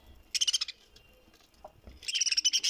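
Budgerigars in a breeding cage chirp in two quick bursts of bright, rapid twittering, first a short cluster and then a longer busy run, fairly close with quiet gaps between.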